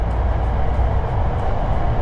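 Inside a train riding a rail line in Kyoto, Japan, a loud steady low rumble of the carriage fills the space with a constant rolling drone and no speech.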